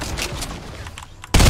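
Burst of gunfire in the Fortnite video game, a loud broadband blast cutting in near the end after a stretch of quieter mixed game sound and faint background noise.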